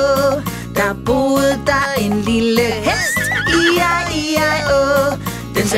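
Horse neigh within a Danish children's farm song, whinnying pitch sweeps riding over bright sung melody and steady bouncy backing music, loud and upfront.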